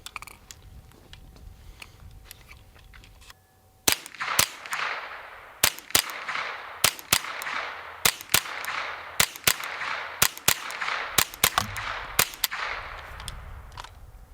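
A rifle fires roughly fifteen rounds through a Pindrop XL carbon fiber suppressor in below-zero cold, sharp muffled cracks spaced about a second apart after a few quiet seconds, close and loud.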